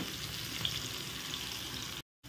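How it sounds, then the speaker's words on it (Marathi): Spice masala for thin poha chivda roasts and sizzles steadily in a pan while being stirred, a continuous close frying hiss that cuts out briefly near the end before resuming. "चांगला खरपूस होईपर्यंत हा मसाला आपल्याला शिजवून घ्यायचा आहे। कंटिन्युअसली अशा पद्धतीने हलवत राहायचं आहे"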